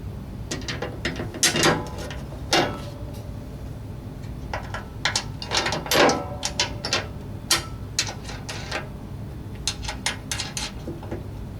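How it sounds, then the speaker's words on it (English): Bolts being put back through a new skid shoe on the auger housing of a Husqvarna two-stage snow blower, giving close, irregular metallic clicks, rattles and taps in quick clusters, with no talking. "Install a new skid shoe back onto the auger housing by reinserting the bolts."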